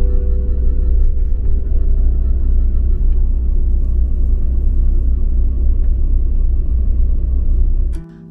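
A Willer Express night bus running on the road between Tokyo and Kyoto gives a steady low rumble and engine drone from inside the cabin, continuous and fairly loud until it cuts off sharply at the end.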